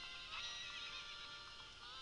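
A horse whinnies in the video game The Legend of Zelda: Ocarina of Time, one short, faint, high neigh over a soft game background.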